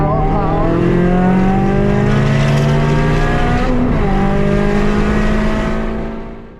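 A turbocharged Toyota GR86 screams on a race track at full throttle, its loud engine tone rising steadily through the rev range until it tops out and then begins to fall away, heard close from inside the car.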